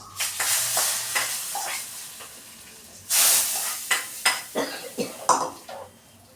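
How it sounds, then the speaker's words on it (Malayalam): Tempering with curry leaves and dried red chillies poured into a pot of curry gives a sudden loud sizzling burst, followed by clinks and stirring scrapes from a utensil against the pot. "ഇനി ഇതിലോട്ടിട്ട് താളിച്ചത് ഇതിലോട്ടിട്ട് കൊടുക്കാം"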